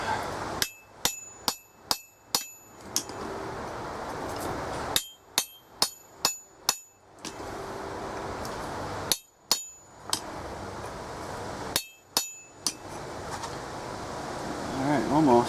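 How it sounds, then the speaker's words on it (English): Hammer blows on hot steel at an anvil while forging cuts, struck in sharp ringing bursts of four to six quick strikes separated by pauses, close and loud over a low background hum. "I'm going to finish the cuts over at the crappy anvil."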